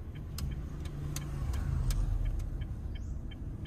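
Honda Brio E 2021 car idling and pulling away in first gear, a steady low engine hum under a regular clicking turn-signal ticker on the right.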